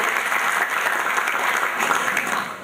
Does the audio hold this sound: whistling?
no